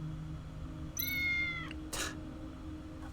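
A cat meows once inside the video game Tales of the Neon Sea, a clear rising-and-falling cry over a steady low background hum, followed by a brief burst of noise.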